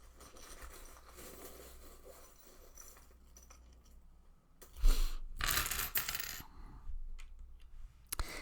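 Metal charms pulled out and dropped, a burst of bright clinking and jingling against a quiet background, followed by a few softer metallic rattles.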